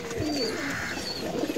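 Cooing of Pakistani breeder pigeons kept as pairs in a loft, a soft, steady murmur of low calls running continuously through the short stretch, close by and without voices.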